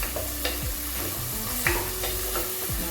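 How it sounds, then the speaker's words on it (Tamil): Onions sizzle and fry in a pan on a medium-heat stove while being stirred, with steady crackling and repeated scraping strokes of the spoon, close and continuous. "நல்லா அந்த வெங்காயம் நல்லா வதக்கணும்."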